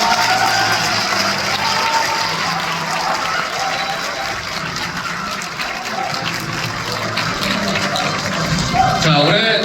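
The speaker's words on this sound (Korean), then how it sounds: "큰 박수 부탁드리겠습니다" A large audience at a baseball award ceremony gives sustained, loud applause, a dense, hissing wash of clapping that runs steadily for nearly ten seconds before a voice begins to speak over it.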